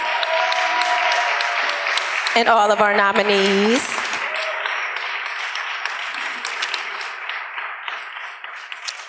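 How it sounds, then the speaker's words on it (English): A big round of applause rolls through the hall at an awards ceremony, sustained clapping from the audience continuing under a voice over a PA and slowly thinning toward the end. "let's please give a thunderous round of applause for all of our winners"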